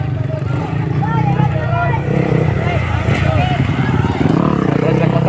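Motocross bikes in the expert-category final of a fiesta competition drone and rev together at a steady, loud level, with an announcer talking over them and crowd noise behind.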